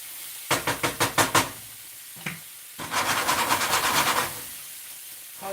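Peppers and onions for Philly cheesesteak sliders crackle in a pan, starting with a row of short rhythmic knocks, then a steady loud sizzle that fades near the end, with no talking.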